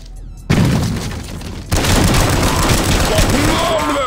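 A grenade explodes in the side-scrolling shooter Not A Hero, two sudden loud blasts a second apart, each followed by a dense rumbling, crackling tail that fills the space.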